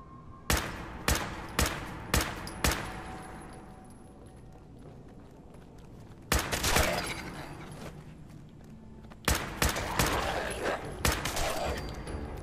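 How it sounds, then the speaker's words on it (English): Rifle gunfire in Fallout 4: a quick string of loud, sharp single shots, then a heavy burst after a quiet stretch, and another rapid volley with echoing tails near the end. "I love this rifle"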